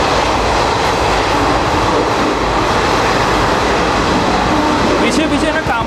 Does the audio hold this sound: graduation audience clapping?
no